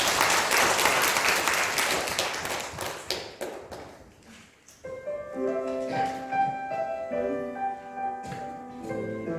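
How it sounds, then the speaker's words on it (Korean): Church congregation at a Sunday worship service claps in applause, a dense burst of hand claps that fades over a few seconds before soft sung hymn music begins. "박수 한번 쳐주시죠."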